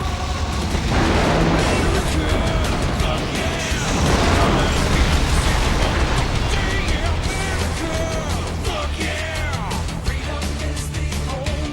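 Rocket explosions and battle din from the World War II shooter Call of Duty 2: Big Red One, a dense, loud and continuous roar of blasts, bursts and crashes with shouting voices mixed in throughout.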